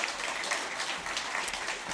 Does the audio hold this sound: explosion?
no